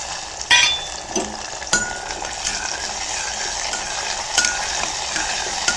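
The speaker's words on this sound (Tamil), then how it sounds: "தக்காளி நல்லா குழஞ்சி நல்லா வதங்கி வரட்டும்" Shallots and tomatoes sauté in oil for a vathakuzhambu tamarind curry, a steady close sizzle broken by a few sharp spoon clinks and stirring scrapes against the pan.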